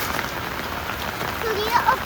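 Steady rain patters down in a heavy monsoon shower near a reservoir, a continuous close hiss of drops on surfaces with no break.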